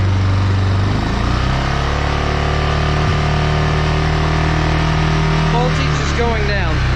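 A Yamaha Wolverine 350 ATV with a charging-system fault runs while being ridden, its engine a loud, steady drone with a small rise in pitch near the start, and a voice speaking over it toward the end.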